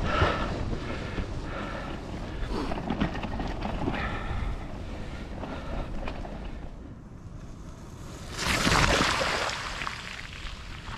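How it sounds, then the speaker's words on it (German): Strong wind gusts buffet the microphone while cycling outdoors into a headwind, a steady broadband roar that swells loudest for a couple of seconds near the end, with no talking. "Jetzt ist wieder windig, natürlich wie alle Radfahrer immer nur Gegenwind"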